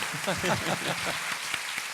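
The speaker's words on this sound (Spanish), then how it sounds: "Y un aplauso para Vicente." Applause from an audience at a book-making talk in Valparaíso: a soft, steady patter of clapping running underneath a person speaking for the whole stretch.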